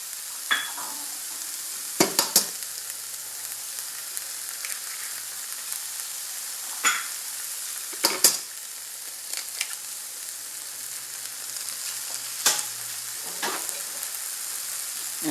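Eggs scrambling with sautéed onions and vegetables in a pan for a breakfast burrito: a steady even sizzle with occasional sharp scrapes and taps of a utensil, close, no voices.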